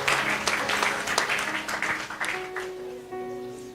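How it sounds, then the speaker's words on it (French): Church congregation applauding together, a dense sustained clapping that fills the room, with some voices mixed in beneath the claps. "applaudissez pour elle"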